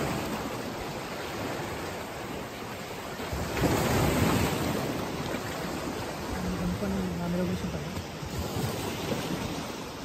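Ocean waves wash onto the beach below the white chalk cliffs of Stevns Klint, Denmark, as a continuous broad rush that swells midway, mixed with heavy wind buffeting the microphone.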